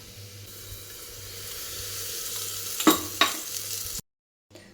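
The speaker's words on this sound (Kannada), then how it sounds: "ಇವಾಗ ತಪ್ಪಲಲ್ಲಿ ಎಣ್ಣೆ ಹಾಕ್ಕೊಳ್ಳೋಣ." Oil heats in a cooking pan for drumstick dal rasam, giving a soft sizzle that swells gradually, with a couple of sharp utensil clinks, before cutting off abruptly.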